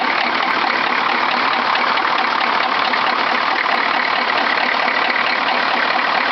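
A car engine idling steadily right after a cold start on a chilly morning, a continuous close, loud mechanical drone with no talking.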